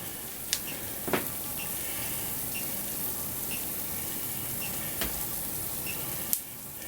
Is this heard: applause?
no